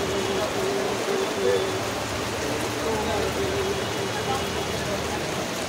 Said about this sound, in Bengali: পুরো আজকে হচ্ছে বৃষ্টির দিন, রেইনি ডে